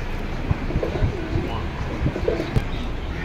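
A pair of Bombay pigeons coo in low, soft, repeated murmurs over a steady background hiss, close by.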